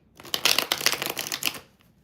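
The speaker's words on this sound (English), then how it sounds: "Just shuffle it one more time." Tarot cards shuffled by hand in a quick, close riffling burst that lasts about a second and a half, with no voice over it.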